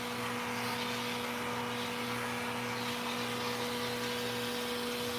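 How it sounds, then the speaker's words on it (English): A dog grooming blower roars at a constant, loud, steady pitch throughout during a puppy's first trim, with a fixed whine over broadband air rush and no talking. "Nobody likes the blower."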